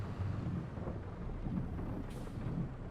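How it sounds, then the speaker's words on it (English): Thunder in a heavy rainstorm in the Farming Simulator video game, a low continuous rumbling with swelling rolls beneath a constant hiss of pouring rain, no voices. "There's a lot of thunder."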